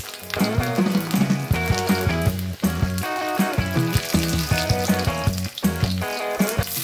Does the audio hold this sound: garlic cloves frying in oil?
yes